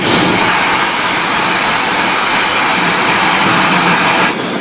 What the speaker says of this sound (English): the sound of the steam piston is all around at the Antique Engine Museum in Vista, California, near San Diego